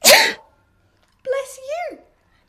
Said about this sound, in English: Goodness me, what a lot of sneezes.